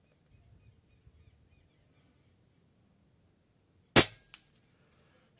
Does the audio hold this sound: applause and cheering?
no